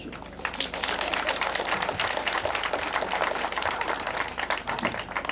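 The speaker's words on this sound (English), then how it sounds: "A better clap from you for her." An audience at the launch of the Chandaria Langata women's workshop applauds steadily and loudly, the dense clapping filling the whole stretch without pause.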